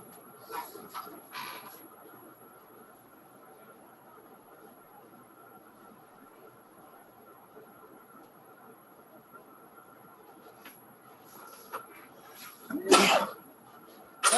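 A single sharp sneeze bursts out near the end, loud and close, after a stretch of quiet room tone with faint shuffling.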